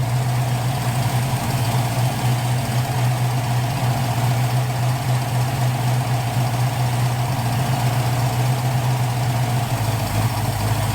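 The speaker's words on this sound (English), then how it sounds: "Now the engine is running back to its basics." A 1980 Pontiac Trans Am engine with Holley Sniper fuel injection idles steadily with a low, even hum and faint rattle, continuous and close for the whole stretch, no voices.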